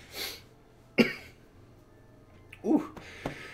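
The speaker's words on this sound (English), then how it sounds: "I still have a couple coughs in there" A few short, sharp coughs, one near the start and another later with a throaty burst, in an otherwise quiet room.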